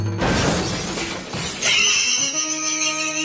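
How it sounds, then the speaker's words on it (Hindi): A jeep with failed brakes smashes into a pani puri street food cart: a loud shattering crash followed by ringing, clattering debris that slowly fades. "अरे ठेला तो टूट गया और सारी पानी पूरी का भी नुकसान हो गया"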